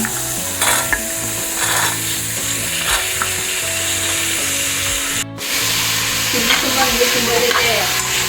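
Onion, tomato and mixed vegetables frying in a pan for a festival sprouted-gram gojju, steady sizzling with repeated spoon scraping and stirring strokes, close and fairly loud.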